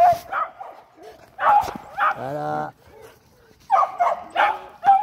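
A puppy from a dog breeder yips, barks and whimpers in short bursts with one drawn-out whine, close by. A person talks softly over the sounds.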